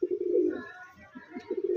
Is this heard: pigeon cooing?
yes